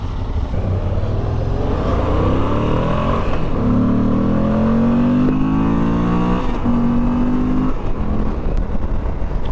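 A 2022 Moto Guzzi V85TT motorcycle ridden at highway speed, around 80 mph, with a steady loud engine drone, gear-change pitch sweeps and constant wind buffeting roaring over it throughout.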